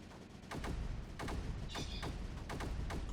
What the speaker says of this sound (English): the mortar should be doing some good work there